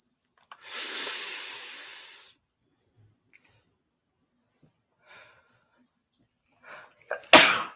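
One sharp, breathy sneeze bursts out close by near the start, followed by quiet rustles and a short snort-like noise at the end.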